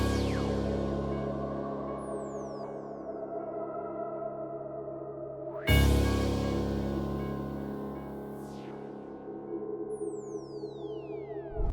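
A crash cymbal sample hits once midway through an FL Studio Chicago beat intro, a bright washing burst that slowly decays over sustained synth and piano tones with siren-like sweeps.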